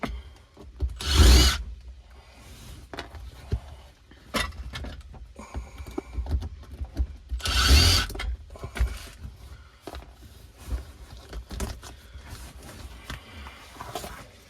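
A power drill backs screws out of an old stick shift column that seems never to have been apart, with two loud bursts of driving and scattered clatter of parts between them.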